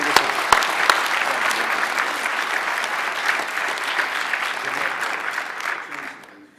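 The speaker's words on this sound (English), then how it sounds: "you'll give a big round of applause" Dense audience applause fills a conference hall at a security talk, steady and close for several seconds before tapering off at the end, with no voices over it.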